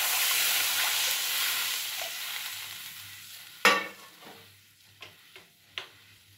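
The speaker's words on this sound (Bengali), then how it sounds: "এবার দিয়ে দেব পরিমাণ মতো জল।" Water splashes into a sizzling pan of fried spice paste for a thin hilsa fish curry with eggplant: steady frying crackle, a sudden loud hissing burst midway, then softer sizzling with a few sharp ticks and clinks.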